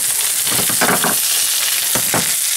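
Walleye fillets frying skin side up in hot sesame oil, a loud, close, continuous sizzle with crackling bursts as the fish shifts in the pan.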